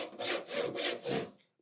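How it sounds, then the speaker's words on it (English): A hand saw cuts a wooden joint in four steady push-pull strokes, each a rasping burst of rising and falling loudness, close and clear with no talk, ending in a brief quiet. "and start sawing"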